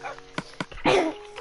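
In Minecraft, a dog gives a couple of quick sharp barks followed by a brief whine, close and moderately loud.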